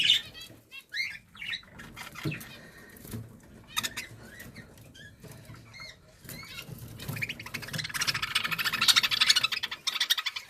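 Budgerigars fighting, with rapid bursts of wing flapping, scuffling and sharp chirps close by, growing louder and busier toward the end, with no talk.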